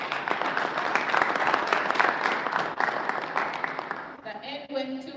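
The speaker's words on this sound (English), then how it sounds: "Let's give Honorable Table another round of applause." A crowd at a technology forum claps steadily and loudly for several seconds, then the applause fades out and a voice begins speaking.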